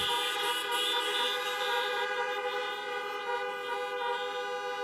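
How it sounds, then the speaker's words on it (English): Many car horns honk together in a steady, loud chorus of overlapping toots at an outdoor drive-in graduation ceremony, sustained without a break. "Okay, that's enough honking."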